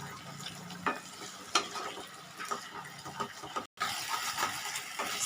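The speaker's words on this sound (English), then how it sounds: "Stir for 1 to 2 minutes." Chicken sausage being stirred in a pan with cornstarch slurry, a steady scraping and soft sizzle with a few louder clacks of the spoon against the pan, close by with no voices.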